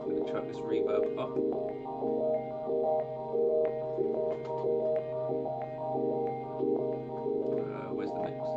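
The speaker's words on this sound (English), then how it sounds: "And I'm going to chuck this reverb up." Electric guitar played through a Line 6 Helix multi-effects unit with the reverb turned up, phrases of picked notes ringing out with long washy tails in repeated bursts.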